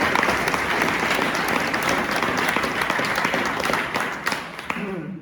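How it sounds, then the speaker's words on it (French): At an evening event with Saint Nicholas in Rheinstetten, the audience applauds the organising team, a dense, sustained clapping from many hands that holds steady and then thins slightly near the end. "on peut applaudir l'équipe d'organisation"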